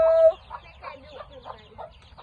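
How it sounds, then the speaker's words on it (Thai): Backyard chickens cluck on a home farm where chicks are kept, with a short run of close, rhythmic clucks following a brief higher squawk. "นี่ที่บ้านเราก็เลี้ยงไก่เนี่ยนี่เห็น"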